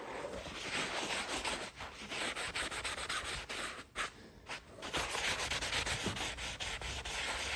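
Steady scrubbing of old, grimy leather caked with years of built-up dirt and worked with a lathered cleaner, a continuous close rasping rub with one brief pause midway and no voices.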